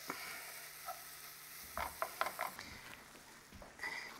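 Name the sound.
gorgonzola cheese melting and sizzling with onions in pan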